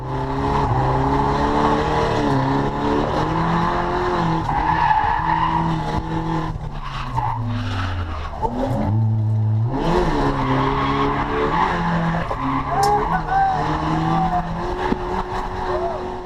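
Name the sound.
car drifting with handbrake on a race track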